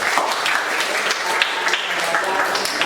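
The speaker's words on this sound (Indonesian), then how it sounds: "Ya, kita tepuk tangan buat kita semua." A classroom group claps together after a lesson, steady mid-level applause running throughout with a busy, uneven patter of many hands.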